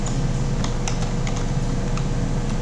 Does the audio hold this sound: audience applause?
no